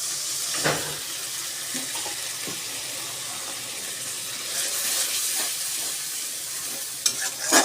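Prawn malai curry with sugar and coconut milk is stirred in a pan, giving a steady low sizzle with occasional scraping and clinking of a spoon, quiet and without talk.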